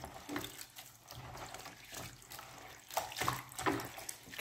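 Water for a basil bath runs and splashes unevenly at close range, with faint gurgles and small clinks over a soft background.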